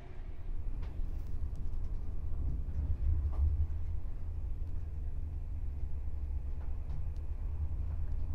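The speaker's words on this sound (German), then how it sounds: "Das heißt, der Zug musste wieder umkehren und wir sind jetzt in Koblenz" Passenger train in Koblenz after having to turn back, heard as a steady low rumble of rolling carriages filling the whole stretch, with faint interior creaks and no speech.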